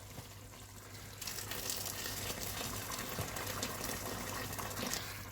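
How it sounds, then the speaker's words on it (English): Hot water pours steadily from a kettle into a pot of chili con carne, a continuous gushing splash after a brief quiet start. "Now I'm going to add a little bit of hot water from the kettle."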